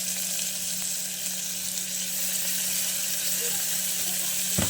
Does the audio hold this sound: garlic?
yes